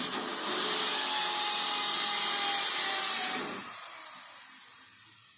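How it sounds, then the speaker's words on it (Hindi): A power drill whines steadily into a metal electrical box for threading bolt holes, loud and continuous for about three seconds before winding down and stopping, leaving faint workshop noise. "ये पहले ड्रिल करके उसमें थ्रेड बना देंगे, उसमें नॉट टाइट करने के लिए।"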